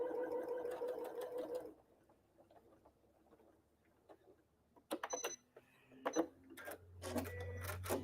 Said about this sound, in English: we're sewing a 1/4 inch along here